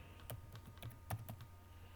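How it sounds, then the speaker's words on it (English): Close-up typing on a computer keyboard while working in PowerPoint: a handful of light, irregular key clicks in quick bursts, quiet and alone, with no voices. "So whatever I'm typing, you'll see the changes appearing here."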